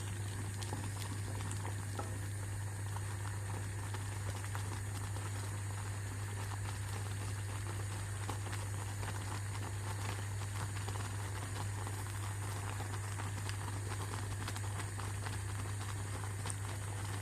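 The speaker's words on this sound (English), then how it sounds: "I'm just giving it another 1 more minute to boil, and the porridge should be ready." Finger millet porridge boiling in a pot, a steady close bubbling and popping patter under a constant low hum, with no voices.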